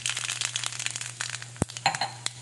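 Mustard seeds sizzling and popping in hot oil for Kerala sambar, a close crackle of rapid irregular pops and spits over a steady frying hiss, with a sharper crack near the middle.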